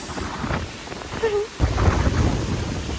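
Heavy thunderstorm with rumbling thunder and steady rain, a loud roar building and surging over the last half, with a brief tonal whistle near the middle.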